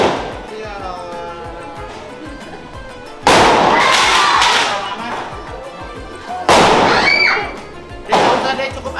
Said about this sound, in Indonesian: Petasan. Ya Allah.